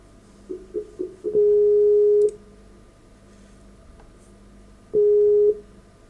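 Telephone tones sound while a call is placed during a live broadcast: a few short beeps, then a long steady tone, a pause, and another long tone, all clear and close with no talk.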